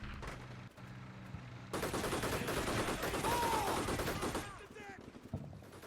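Gunfire in the Cold War wargame Combat Mission, as mortar teams are spotted and cut down near hangars: dense, continuous rattling bursts swell in loudness mid-clip, then thin out into scattered shots toward the end.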